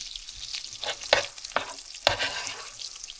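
Butter sizzling on chicken in a pan for garlic butter chicken: a steady frying hiss broken by a few stirring scrapes, close up and with no speech.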